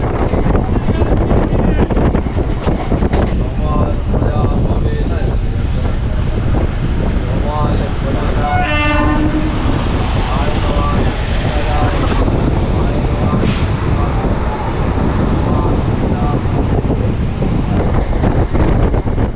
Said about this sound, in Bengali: এবার ট্রেন এগোচ্ছে বালিচকের দিকে